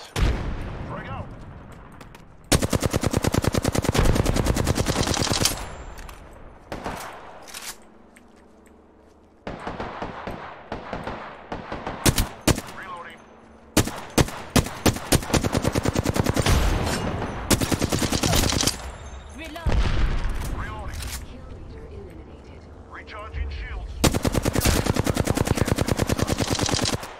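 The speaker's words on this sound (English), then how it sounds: "Taking fire, Ross." Video game gunfire in a competitive shooter match: dense bursts of rapid automatic fire and single shots, loud and close, in repeated volleys with short gaps and some talk between.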